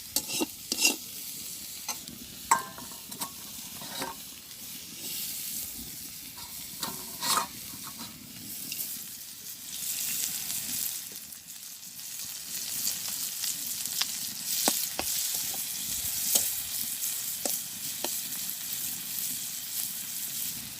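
Onion sizzling as it fries in a pan in a Bangladeshi village kitchen, with a steady hiss and a spoon stirring and scraping against the metal at close range, with no talking.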